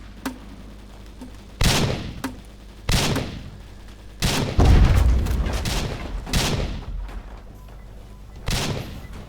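A cannon train in the Roblox game fires a string of heavy, booming shots, spaced irregularly and loud up close, with a long rumbling burst in the middle and scattered clicks between blasts.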